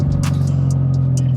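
A BMW F30 330e Stage 2 plug-in hybrid with a homemade exhaust built from wide scaffolding pipe idles with a steady, deep low bellow, close and continuous, with a few faint clicks over it.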